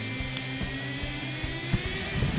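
A Jetboil camping stove burner roars steadily at close range during a forest camp, with a few faint knocks and clicks over the constant rushing hiss.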